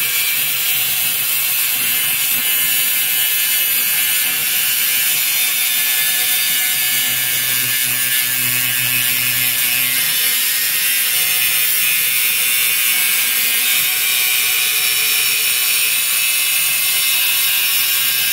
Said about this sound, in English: But allows me to grab the grinder and get more control of it.